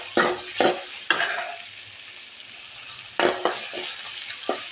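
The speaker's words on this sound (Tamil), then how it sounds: "அந்த சொரக்காவையும் இதுக்குள்ளே சேர்த்துக்கலாம்." Chopped bottle gourd is stirred into a tomato gravy frying in a pan: several sharp spoon scrapes and clatters come in two clusters over a soft, continuous sizzle.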